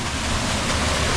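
A waterfall on the Mrzli potok stream in Slovenia's Posočje roars as a dense, steady broadband rush of falling water, loud and close with no other sounds.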